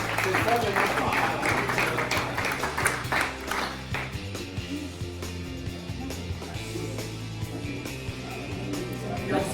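Audience applause at a mayoral handover ceremony, steady crowd clapping over the first few seconds that thins and fades under continuing room noise and voices.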